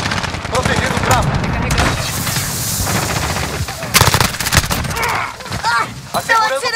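Rapid bursts of automatic gunfire and single shots crackle almost continuously in a Call of Duty: Modern Warfare firefight, loud and close, with a voice calling out over the shooting.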